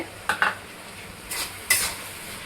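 Tomato chutney with freshly added coriander and mint leaves stirred in a pan, a few short scraping spoon strokes in separate bursts over a faint background sizzle, no talking.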